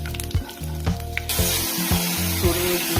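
Five-spice mix with dried red chillies and bay leaves hits hot oil in a vegetarian curry pan. A few light clinks and scrapes come first, then a loud, sudden sizzle that stays as a bright, continuous hiss.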